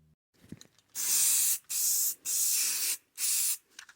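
Primer sprays onto a vintage 14 ft Arkansas Traveler aluminum boat hull in four steady hissing bursts, each about half a second apart, close and fairly loud with no talk.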